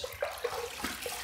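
Water runs from a tap for wetting a razor and shaving lather, a steady close splashing with a few brief louder spurts.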